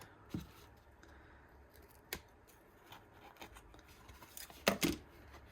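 Quiet snips of dull scissors cutting through fabric, a few sharp cuts spaced apart with a quick double snip near the end.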